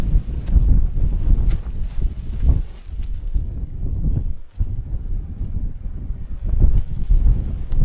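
Strong gusting wind batters a camping tarp on a windy site, a loud close roar with flapping and rumbling buffets on the microphone, surging and easing without pause.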